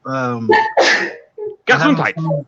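A loud, close vocal outburst resembling a sneeze, with voiced sounds before and after it.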